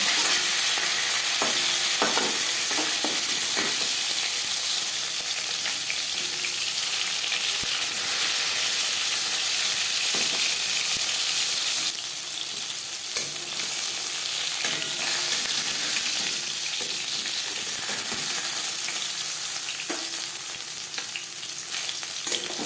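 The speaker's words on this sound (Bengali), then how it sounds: "মাছ একটা সাইড ভাজা হয়ে গেলে অপর সাইডটা উল্টে দেবো।" Pieces of Bhola bhetki fish fry in hot oil in a pan with a loud, continuous crackling sizzle, broken by occasional clinks and scrapes of a utensil; no voices.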